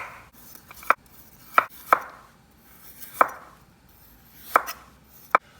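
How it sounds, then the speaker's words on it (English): A knife works down a broccoli stem, stripping its woody, fibrous outer layer in a series of crisp, close cuts against a board, about six irregular strokes with quiet gaps between them. "We're just trying to peel off the outer layer, which is woody and fibrous, and expose the sort of heart of the broccoli"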